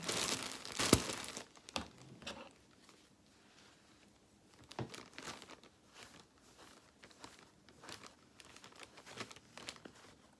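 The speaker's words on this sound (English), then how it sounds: "Use the scissors then just to start and push the stuffing through to the edge." Closed scissor blades pushing stuffing into a sewn toy head, giving soft crinkling and rustling bursts with a louder scrunch at the start and quieter scattered crackles after.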